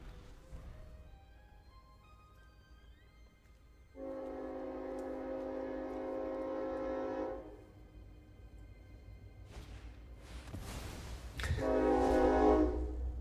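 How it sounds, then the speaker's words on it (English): A train horn sounds a long sustained blast, followed later by rumbling and another loud horn burst over low background noise. "Here comes the good old train."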